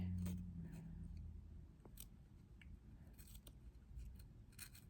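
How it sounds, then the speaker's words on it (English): Scissors snip through fabric in a few short, choppy cuts, soft crisp clicks against a low background hum. "Let's see how the scissors works."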